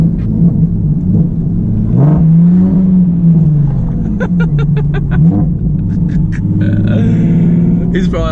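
Straight-piped Nissan 370Z exhaust rumbling loudly as the car accelerates, a deep continuous drone rising and falling in pitch from inside the cabin, with clicking and other cabin noises toward the end.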